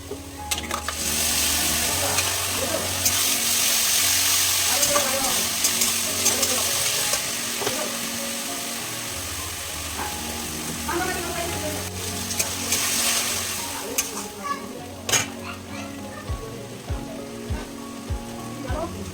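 Spice paste sizzling loudly in hot oil with browned onions in a home kitchen pan, a steady close frying hiss broken by scraping stirs, with a few clinks near the end.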